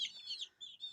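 Young chicks at a poultry farm cheep in a run of high, thin peeping calls, faint and close, with no voices.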